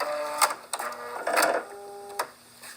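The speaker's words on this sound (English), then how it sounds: "She sewed them right on the line, going in opposite directions." Sewing machine chain piecing small quilt heart pieces, with short close bursts of mechanical stitching whir separated by brief pauses.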